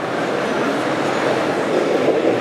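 Model train locomotive from the Märklin and Trix range running on a display layout at the International Toy Fair, giving a steady, continuous rolling rumble with no pauses, close and moderately loud, with no voices present.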